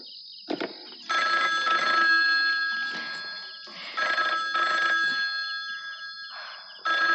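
A telephone rings in repeated bursts of bright electronic trilling with short silent gaps between them, clear and close in a quiet room.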